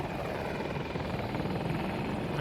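An attack helicopter in the video game Battlefield flies with a loud, steady rotor roar and engine drone that holds evenly throughout, with no voices.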